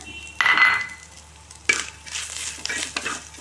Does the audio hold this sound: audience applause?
no